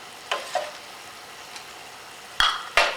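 A whisk stirs a flour and milk mixture into boiling turkey gravy liquid in a pot, making a few quick, close scraping strokes with quiet pauses between them.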